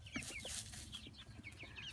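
Backyard chickens at an urban homestead coop cluck and chirp in a busy, overlapping stream of short calls, close by and moderately quiet.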